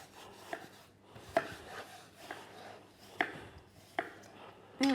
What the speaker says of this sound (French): on va tous découper les pommes